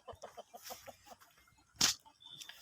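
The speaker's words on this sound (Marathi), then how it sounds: "इकडं आहेत कोंबड्या" Soft, quick clucks from a few chickens in a choppy rhythm, close by, with one sharp louder burst near the end.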